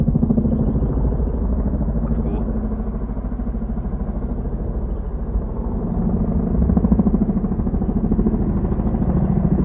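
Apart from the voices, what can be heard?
helicopters flying overhead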